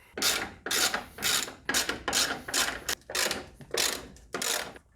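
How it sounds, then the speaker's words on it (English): A ratchet with a 30mm socket works loose the strut top nuts under the hood of a Mini Cooper S 1.6 ALL4 R60, rasping in about nine loud, close, evenly paced strokes. "Now under the hood, with a 30mm socket, remove these 3 nuts."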